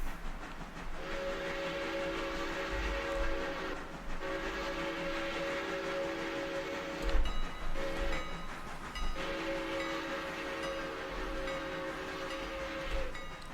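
A passing train's horn in the railroad simulation game Railroader sounds a loud crossing pattern: two long blasts, a short one, then a long one, over steady rumbling rail noise with no talking.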